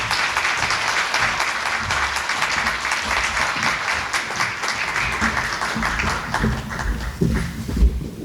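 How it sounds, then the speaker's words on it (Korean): Audience at a YMCA lecture in Daejeon applauding the lecturer, a priest: sustained, even clapping from a sizable crowd that keeps a steady level throughout, with a few louder claps and shuffling near the end. "전양문 신부님께 다시 한번 박수 부탁드리겠습니다"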